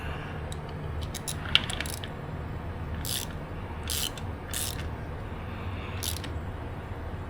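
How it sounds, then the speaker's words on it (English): A ratchet turns a motorcycle transmission on a Honda Grom, giving faint, quick clicking bursts of the pawl at intervals over a low, quiet background. "It's just gonna spin the whole transmission."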